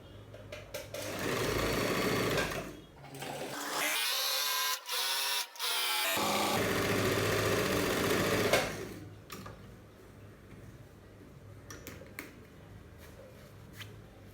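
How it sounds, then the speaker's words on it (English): A sewing machine stitches a curved hood seam in steady, loud mechanical runs, stopping briefly in the middle before starting again, then falling to quieter handling sounds. "I'm going to sew on this curved part."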